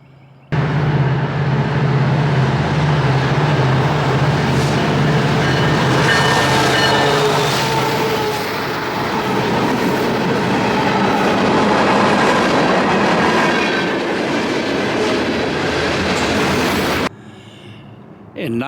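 A train rolls past the historic Salisbury train station in North Carolina with a loud, close, continuous roar and rhythmic clickety-clack of the wheels, cutting off abruptly near the end.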